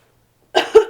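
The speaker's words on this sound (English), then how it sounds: "I have a cough." Two short, sharp coughs from a person sound close by, one right after the other, following a stretch of silence.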